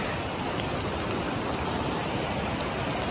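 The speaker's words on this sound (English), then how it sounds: "And it's a rainy day." Dense, continuous rain pattering steadily in the Ozarks, loud and close, with no pauses or other sounds.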